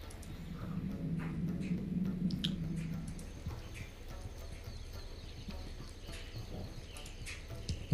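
Horse hooves clip-clop in the Civilization 5 strategy game, a steady run of soft repeated hoof beats over a low game rumble, with occasional light clicks and no talk.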